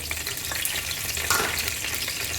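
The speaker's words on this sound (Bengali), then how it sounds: "এগুলো দিয়ে দিব আমার তেল গরম হয়ে গেছে" Whole spices – cardamom, bay leaves, cinnamon sticks and cloves – sizzle in hot oil as they hit the pan, a steady close crackle with a brief louder burst midway, no voices.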